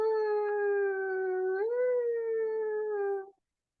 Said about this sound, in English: What is that? It's a fire truck.